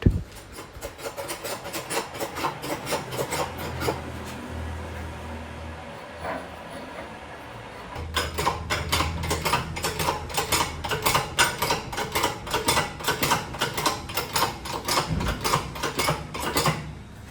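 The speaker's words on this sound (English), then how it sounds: "We'll use a hydraulic press to press the shaft into the bow and create a solid and tight fit." A hydraulic press forces a broken shaft into a bow in a workshop, giving a loud, rapid mechanical clicking and ratcheting rhythm that eases off briefly and then returns stronger, with no talking.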